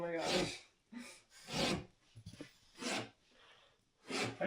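Repeated saw cuts scored across a piece of drywall to accordion-bend it for an archway, heard as close, rhythmic rasping strokes in bursts separated by short pauses.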